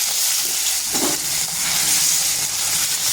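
Ginger paste with turmeric frying over low heat in a pan gives a steady, close, loud sizzle that continues throughout, with a soft stir partway through and no talking.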